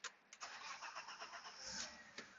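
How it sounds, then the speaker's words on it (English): A 1993 BMW 325i engine cranks and catches, with a steady broadband mechanical whir at close range and a few sharper pulses as it fires up and runs. "So again, right now the car is just starting."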